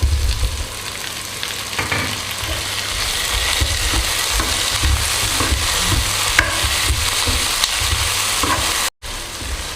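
Continuous loud sizzling of vegetables, green chillies and tomato frying in a pan, with intermittent stirring scrapes throughout and a short gap near the end.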